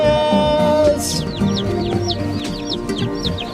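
Young chicks brought home in a box, a busy cluster of high, rapid peeps and chirps close up, with some lower clucking noises among them.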